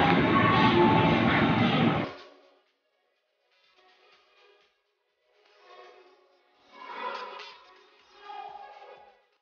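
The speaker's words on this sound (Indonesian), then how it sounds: "sekarang kita ada di stasiun Depok Baru" Train at Depok Baru railway station, a loud rumbling pass that cuts off after two seconds, followed by fainter rolling and rattling swells from the platform.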